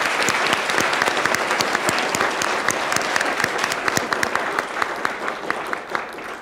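Audience at a writers' event with authors on a panel, clapping in loud, dense, sustained applause with sharp individual claps throughout, close and continuous, tapering slightly at the end.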